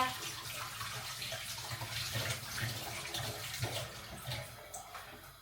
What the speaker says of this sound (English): Quickly wash the hands